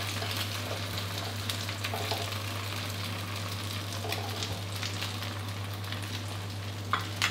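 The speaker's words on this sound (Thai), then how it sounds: "เราจะทอดด้วยไฟกลางไปเรื่อยๆเลยนะครับ ทอดเพื่อให้แป้งสุกกรอบดีนะครับ" Thai crispy oyster pancake batter fries on medium heat, a steady close sizzle and crackle of hot oil with faint scraping now and then, alone without talk.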